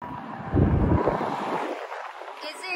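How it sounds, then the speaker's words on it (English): Gusty wind buffets the microphone in rural Japan in the morning with a broad low rumble, loud and steady through the clip, easing slightly toward the end. "it's a little windy today"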